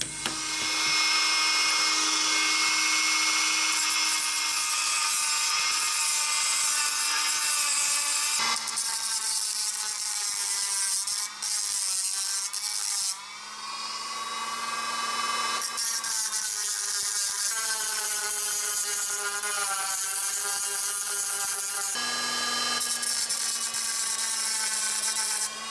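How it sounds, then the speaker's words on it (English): A Dremel rotary tool with a drum sander trims excess material flush to a template edge, a loud high-pitched whine that rises and falls in pitch with load, briefly pausing between passes, with no talking. "use a Dremel with a drum sander and we're just going to clean off the excess that sits"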